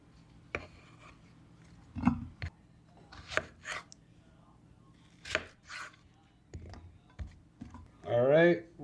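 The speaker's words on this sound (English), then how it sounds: "we're gonna dice those up" A knife dices tomatillos on a cutting board, giving scattered sharp chops at an irregular pace and ending in a denser burst of quick cuts, with a faint voice in the background.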